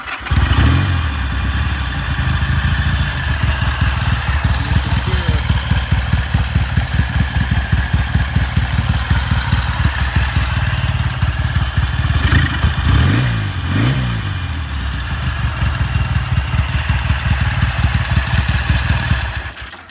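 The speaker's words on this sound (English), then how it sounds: "The deepness of that exhaust note" A Laverda Breganze twin motorcycle, fitted with a balance pipe and Lafranconi exhaust, idles steadily with a deep, throbbing exhaust note, close and loud throughout, with a couple of brief blips of the throttle.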